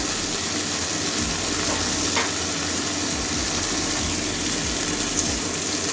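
Egg fries in oil in a pan while being gently stirred, giving a continuous close sizzle and crackle, with low scraping stir strokes recurring throughout.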